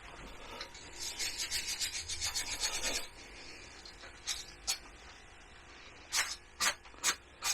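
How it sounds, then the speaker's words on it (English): A wire brush scrubs a rusty drill bit pulled up by magnet fishing in London, first in a run of quick rhythmic rasping strokes, then a few separate sharp scrapes after a pause, close and fairly quiet. "give it a quick rub over with a wire brush"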